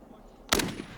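A single loud rifle shot fired during sniper practice by soldiers, a sharp sudden crack with a short decaying tail, standing out against quiet outdoor background.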